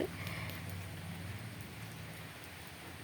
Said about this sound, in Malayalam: ഇപ്പോഴും നല്ല ചാറ്റൽ മഴയുണ്ട് കേട്ടോ